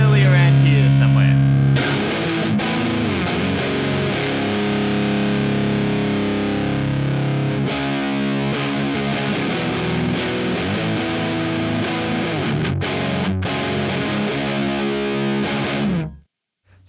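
Electric guitar through a ProDrive overdrive distortion plugin, gritty distortion on sustained chords and riffs, loud and continuous, then cuts off abruptly at the end.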